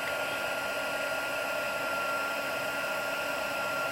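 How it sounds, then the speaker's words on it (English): A heat embossing tool blows hot air in a loud, constant, unbroken rush like a small hair dryer, running alone for the whole stretch. "let's go ahead and try and heat emboss it. So bear with me with the noise"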